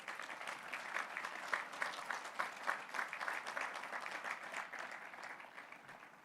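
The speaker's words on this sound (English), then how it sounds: "I ask you to give them a round of applause" Sustained applause from a large crowd at a college commencement, steady dense clapping for several seconds, heard from a distance and fading slightly toward the end.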